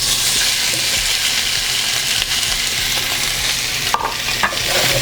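Seafood for shrimp and grits sears in hot oil, a loud, close, continuous sizzle with occasional stirring scrapes and clicks from the pan and no talking.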